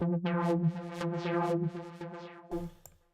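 A synth patch with rich harmonic tones swelling and pulsing rhythmically, bright filter sweeps rising and falling, ending with a short burst and fade.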